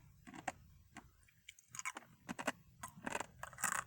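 Crisp, crunchy chewing of chicken chips, a pork rind alternative, close to the mic, irregular bites and crackles spaced through a quiet background, with no talking.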